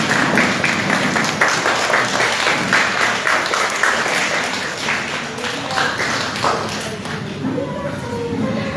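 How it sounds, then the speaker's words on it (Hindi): An audience claps to welcome the chief guests at a children's event, with steady applause running throughout and voices talking over it. "तालियों से उनका स्वागत।"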